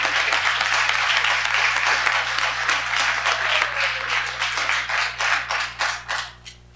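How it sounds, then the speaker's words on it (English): Audience at an awards ceremony in a public library applauds steadily with dense clapping, thinning into scattered individual claps before fading out. "I'd like to give a round of applause to the mission agenda"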